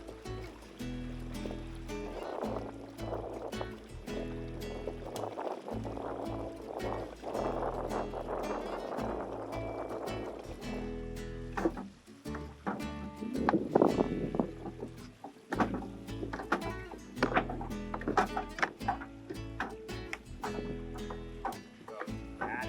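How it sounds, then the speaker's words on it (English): Wind gusts across a Windrider 17 trimaran sailing on open water, a sustained rushing roar that swells midway with water sloshing against the hull and buffeting on the microphone. "we got a sudden little burst of wind"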